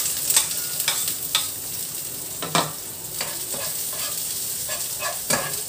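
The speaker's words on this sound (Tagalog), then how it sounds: "Lagay na natin yung ating sibuyas." Chopped onion dropped into oil with golden-browned garlic sizzles steadily, broken by several sharp scraping stirs of a spatula against the pan; close and moderately loud with no talking.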